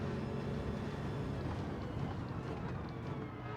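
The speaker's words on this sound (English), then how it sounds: "The dominant noise is that rotary engine." Rotary engine of a GT3 race car in Gran Turismo 7 at Lago Maggiore, a steady loud drone that fills the whole stretch without any break.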